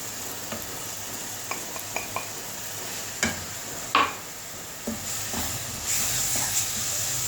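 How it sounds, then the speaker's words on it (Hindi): Coconut halwa stirred and roasted in a pan, a steady low sizzle broken by scraping strokes of the spoon and a few louder clatters, close and without talk. "अभी थोड़ा सा भून के 1 कप इसमें खुश्क दूध डाल दूँगी।"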